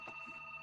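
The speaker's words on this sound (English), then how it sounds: "my phone is ringing." A phone rings once during a town council meeting, a faint electronic tone that sustains evenly over a quiet room with no talk.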